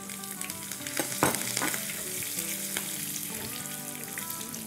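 Curry leaves and dried red chillies hit hot oil for a South Indian vegetable dal sambar, giving a sudden loud crackle followed by a steady close sizzle, with stirring scrapes and occasional pops, and no talking.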